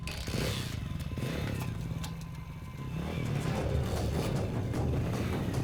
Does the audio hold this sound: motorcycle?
yes